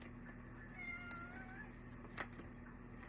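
A house cat gives a few soft, drawn-out meows over a steady low background hum, faint and nearby, with one brief sharp click partway through.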